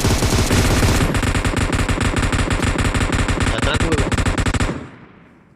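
Rapid, loud automatic gunfire in the PUBG Mobile battle royale game, a dense continuous burst of machine-gun shots that runs for several seconds before cutting off and fading.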